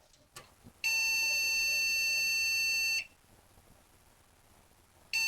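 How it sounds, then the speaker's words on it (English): An Asus P3B-F motherboard sounds memory error beeps: one long, loud, steady electronic tone lasting about two seconds, followed by quiet, then the next tone starting, with a couple of clicks before it. "Now we have memory error beeps."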